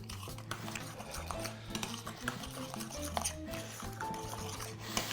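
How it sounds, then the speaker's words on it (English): Utensil stirring and scraping through thick mayonnaise dressing mixed into chicken salad in a bowl, close, moist and squelchy with irregular clinks and a faint background hum, no speech. "And so I'm just going to mix this up."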